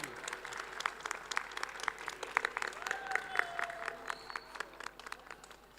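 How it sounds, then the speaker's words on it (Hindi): Crowd clapping at a poetry gathering, a mushaira and kavi sammelan, sustained applause with distinct sharp claps at moderate level while people talk and call out over it. "दोस्तों जोरदार तालियां बजा के स्वागत कीजिए।"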